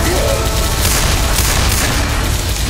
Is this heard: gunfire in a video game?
yes